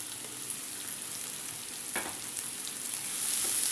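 Chopped onion, garlic, ginger and green chilli sautéing in hot oil in a pan, a faint steady sizzle with a brief scrape of stirring, close and quiet with no voices.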